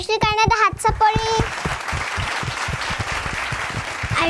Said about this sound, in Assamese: আয়ুশ্ৰীৰ কাৰণে এটা হাত চাপৰি